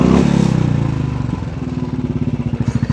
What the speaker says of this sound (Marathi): तुम्ही आता बुलेटचा आवाज ऐकला असेल, मी थ्रॉटल देत होतो